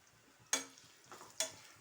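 Fruit fries in hot oil and is stirred in two batches: two sharp, close scraping stirs about a second apart, each with a burst of sizzle, over a faint low bubbling.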